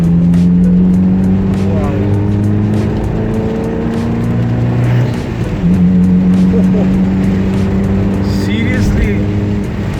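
Steady car engine drone with rumbling tires on a wet road as the car picks up speed in the rain, loud and continuous, with someone talking over it.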